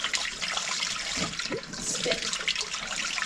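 Water gushing and splashing into a sink as a heating pipe zone is purged, a steady broadband rush with gurgling bursts and bubbles, with a brief word spoken over it.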